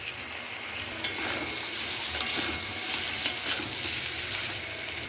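Fried potatoes and softened shola kochu taro hiss and crackle steadily in a hot pan for a prawn curry, with a couple of sharp scrape-and-clack moments as the pieces are stirred; no voices.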